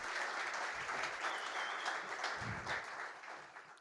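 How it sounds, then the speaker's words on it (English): Dense, continuous crowd applause at the Safari Ya Umoja event welcomes the brand ambassadors, a soft, steady wash of many hands clapping that tapers slightly toward the end. "A round of applause to our brand ambassadors."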